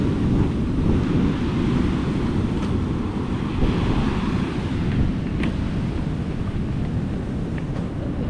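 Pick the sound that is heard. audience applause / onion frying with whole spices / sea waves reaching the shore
sea waves reaching the shore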